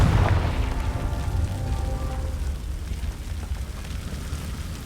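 A Confringo spell explosion in the Hogwarts Legacy video game goes off as a deep, booming blast that rumbles and fades over several seconds.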